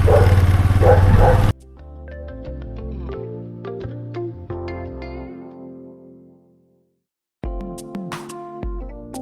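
Dogs bark outdoors on a sunny day, sounding as repeated, uneven yips and woofs at moderate distance. A voice talks briefly at the start, the barking trails into quiet, and then it returns.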